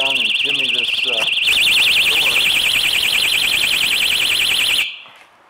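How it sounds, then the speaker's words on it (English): An installed RV security alarm on a 2015 Fleetwood Flair 26E blares a loud, piercing warbling siren for several seconds and then cuts off abruptly, with a voice heard briefly at the start. "Somebody's not going to want to stick around and jimmy with that door once they set that alarm"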